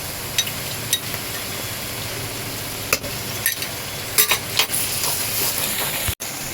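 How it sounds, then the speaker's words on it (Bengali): Ginger paste sizzles and spits in a hot pan of oil, a steady bright frying hiss with occasional scrapes and stirring knocks from a spoon, close up and without talk. "এবার আমি আদা বাটা দেব এই দু চামচের মতো আদা বাটা দেবো"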